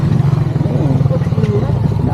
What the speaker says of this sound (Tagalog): ang daming motor naghihintay